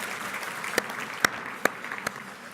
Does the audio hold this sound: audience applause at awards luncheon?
yes